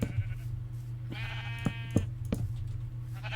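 Several Minecraft sheep bleat in quick succession, short nasal calls over a steady low background hum, close and clear with no talking.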